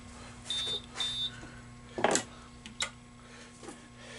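A Pro model vending tester runs its self-test on a Conlux CCM-5 tube vending coin mech, giving two short electronic beeps followed by mechanical clicks and a brief clattering burst, all close and fairly quiet.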